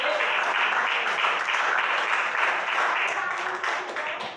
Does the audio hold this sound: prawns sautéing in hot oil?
no